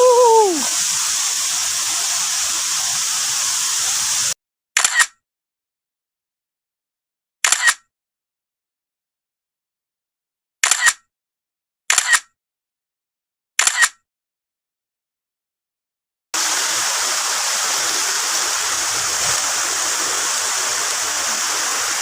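Steady roaring rush of falling water at Soi Sawan Waterfall, Khong Chiam, Ubon Ratchathani, Thailand, broad and loud, interrupted by several seconds of silence with a few brief bursts before the roar returns.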